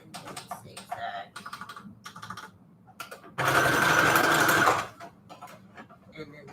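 A sewing machine zigzag-stitches fabric onto a manila tag in one loud rattling burst lasting about a second and a half, preceded and followed by short mechanical clicks and someone talking.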